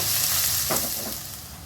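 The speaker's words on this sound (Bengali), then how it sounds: "এখন দিয়ে দেবো পেঁয়াজ কুচিটা। এখানে মিডিয়াম সাইজের 2টা পেঁয়াজ আছে, পেঁয়াজটা খুব মিহি করে কুচিয়ে নিয়েছি। এটা এখন বাদামি করে ভেজে নেব।" Two finely chopped medium onions fry in a pan for Bengali egg curry, giving a loud, steady close sizzle with a brief stirring rustle in the middle that fades slightly toward the end.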